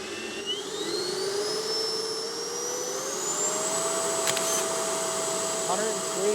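An FMS 80mm Futura v3 RC electric ducted fan jet motor spinning up toward full throttle on the ground, a loud steady whine rising smoothly in pitch, with a brief faint voice partway through.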